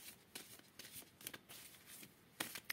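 Tarot cards being shuffled and cut, with a series of crisp, papery riffling bursts and soft slaps in an irregular rhythm, close and fairly quiet, with no talking.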